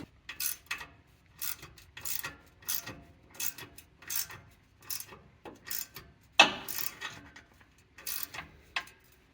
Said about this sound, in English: So I hold that nut while I ratchet on it